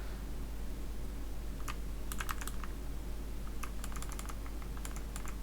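Keys on a computer keyboard are pressed during PC graphics-card overclocking, giving short clusters of crisp clicks over a steady low hum. Each burst holds several rapid taps, with pauses between them.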